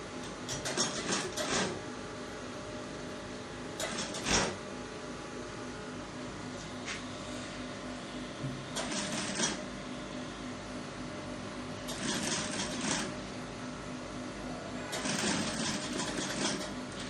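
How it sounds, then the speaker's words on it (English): A sewing machine topstitches a senator top in repeated short bursts of rapid whirring stitching, separated by brief pauses and fabric handling, close and moderately loud over a steady room hum. "Then you top stitch."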